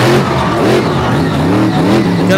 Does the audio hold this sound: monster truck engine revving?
yes